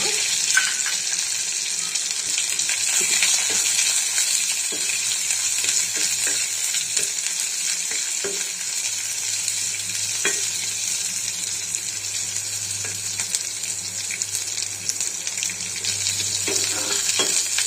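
Sliced onions frying in hot oil for egg curry, a constant bright sizzle with occasional spoon clicks and stirring scrapes, close and steady throughout, no voices.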